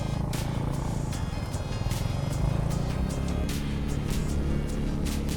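A motorcycle engine roars loud and close during a wheelie on a road near Sundarijal, Kathmandu, the revving steady and harsh with rattly mechanical noise throughout.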